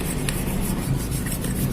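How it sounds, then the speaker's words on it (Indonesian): Steady rubbing and scrubbing as dirt is worked off a motorcycle front shock tube, a close, even rasping scrape throughout with no talk. "gosok terus teman-teman"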